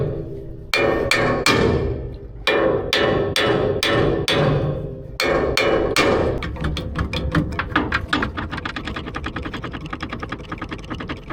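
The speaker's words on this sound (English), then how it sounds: "Big hammer." A big hammer strikes a cracked metal boat stabiliser in sharp, loud ringing blows, first in spaced groups of heavy hits, then in a rapid run of quicker, lighter strikes.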